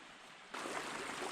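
A river runs through a sheltered, windless valley in McGee Creek State Park, its steady broadband rush starting abruptly partway through and continuing evenly and close.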